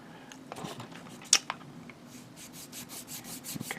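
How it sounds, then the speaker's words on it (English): Small plastic Gundam model kit part being sanded by hand for a diorama: quiet, intermittent scraping and rubbing strokes with one sharper tick, close up and faint, no voices. "So that's sanded down."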